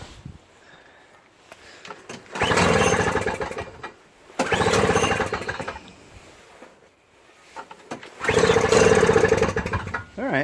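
A Toro CCR 3650 single-stage snow blower engine, old and likely needing a carburetor cleaning, is cranked by pull cord three times, each pull giving a loud sputtering burst of a few seconds that dies away without catching.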